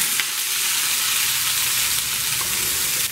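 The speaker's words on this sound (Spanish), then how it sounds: "en un sartén vamos a agregar el ajo, la cebolla, con un poquito de aceite y le vamos a agregar los champiñones" Garlic, onion and mushrooms frying in a pan with a little oil, producing a loud, continuous close hiss and sizzle that holds steady throughout without talking.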